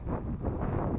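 Steady low rumble of wind buffeting the microphone, swelling and easing in gusts throughout, with no voices.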